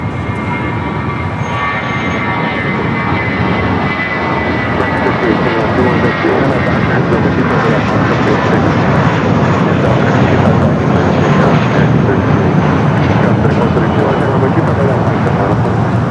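A Boeing 767-300ER heavy jet arrives at LAX, a loud, sustained engine roar with a rising whine that builds steadily and grows louder toward the end.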